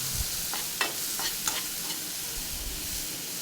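Onions and curry leaves sautéing in hot oil, with a steady sizzle and a few soft stirring scrapes of a spoon against the pan, close by and without voices.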